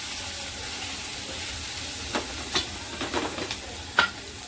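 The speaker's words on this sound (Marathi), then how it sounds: "हे पण छान परतून घ्यायचं आहे" Bitter gourd masala sizzles softly in a pan, a constant low hiss with a few spoon scrapes and taps against the pan toward the end.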